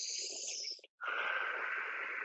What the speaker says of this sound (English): let's take a couple of mindful and deep breaths here